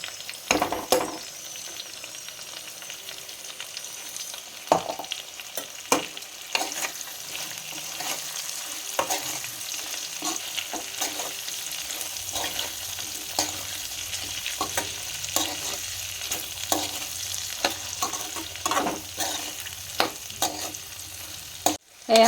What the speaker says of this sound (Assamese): অকণমান ভাজি ল'লোঁ ঔটেঙাখিনি এতিয়া ইয়াতে মছলা দি দিছোঁ